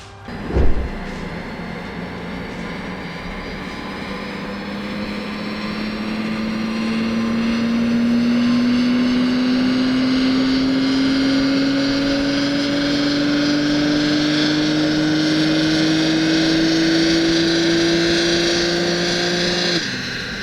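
Tuned BMW M4 Competition G82 with its S58 engine running on a dyno, a sharp start followed by a sustained engine roar whose pitch climbs steadily across a long pull, loud and continuous with no talking.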